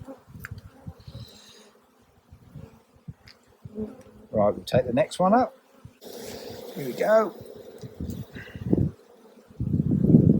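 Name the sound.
bees buzzing during a beehive inspection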